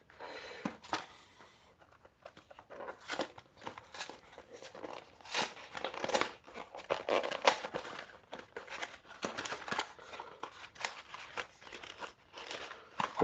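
A Super Mario trading card pack being opened by hand: close, continuous crinkling and crunching of the foil wrapper, with irregular rustles and sharp crackles as the cards are handled, and no talking.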